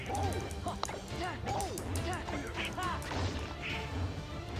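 Objects shatter repeatedly with crashing smashes during a pirate ship battle in Kingdom Hearts 2, over busy game music and effects, while a person talks throughout.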